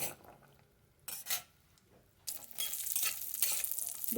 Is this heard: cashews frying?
yes